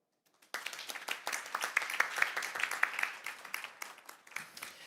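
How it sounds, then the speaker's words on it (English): Warm applause from a conference audience in Seoul greets a guest speaker at an international law event, starting abruptly after a brief silence and holding as a dense, steady wash of clapping that stays fairly even to the end. "please join me in greeting Ms. Dr. Bernasconi with a warm round of applause"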